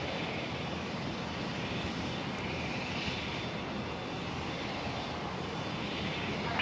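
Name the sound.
Dash 8 turboprop aircraft starting up at Brisbane Airport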